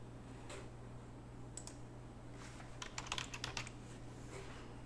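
Light clicking keystrokes on a computer keyboard come in a brief scattered flurry over a steady low electrical hum, close and fairly quiet, with no talking.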